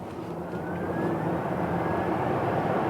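A BMW iX electric SUV, a 2.5-ton vehicle with a 105 kWh battery, accelerates hard in sport mode from 45 km/h, a smooth rising electric whine over steady road and wind roar that grows slightly louder.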